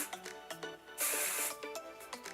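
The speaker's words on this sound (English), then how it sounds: "And I'm just gonna go in and spray like a crazy person." A sustained hissing hairspray burst onto hair lasting about half a second, standing out against quieter background sounds and faint voices.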